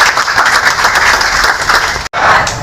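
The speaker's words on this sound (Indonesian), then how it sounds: "Tepuk tangan buat kalian semua" An audience at a Manado inauguration ceremony for Laskar OD BOS claps in loud, sustained applause, a dense close wash of hand claps that cuts out briefly near the end and then resumes.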